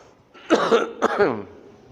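Two harsh, close coughs in quick succession, loud and raspy, with a quiet pause before and after.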